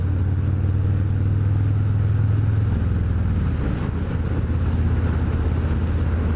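A Harley-Davidson Fat Boy 114 motorcycle cruises smoothly along a road, a steady loud low engine rumble with wind noise, the tone dropping slightly partway through as the ride continues.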